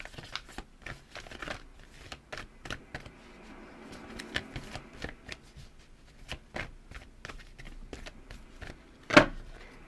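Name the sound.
shuffling tarot advice cards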